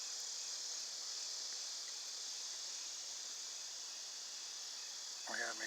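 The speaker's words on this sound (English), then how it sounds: "Got some cicadas going in the background." Cicadas buzz steadily outdoors beside a homemade wood stove built from an old microwave, a constant high shrill drone filling the whole stretch, with a brief low knock near the end.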